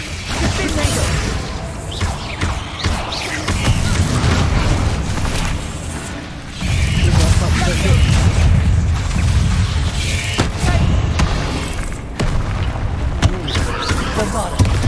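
Repeated blasts of the Confringo explosive spell in Hogwarts Legacy, loud booming bursts in quick succession over a dense, rumbling battle din with sharp impacts throughout.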